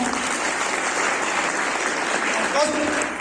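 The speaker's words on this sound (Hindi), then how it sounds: "एक बार आप अपने लिए जोरदार ताली।" A training-session audience claps in a dense, steady burst of applause that holds at an even level throughout, with a faint voice surfacing briefly near the end.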